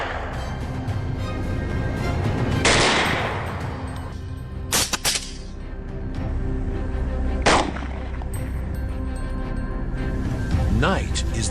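Loud rifle shots crack out at intervals during a wild boar hunt, each sharp report echoing over a steady background rumble, roughly three or four distinct shots spread across the stretch.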